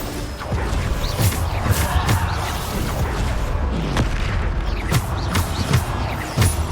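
Bombarda explosion spells cast in Hogwarts Legacy combat, a run of loud booming blasts and whooshing impacts landing every second or so over a dense battle bed.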